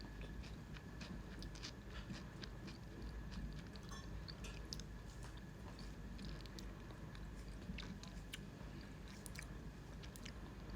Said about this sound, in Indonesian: Ngunyah terus.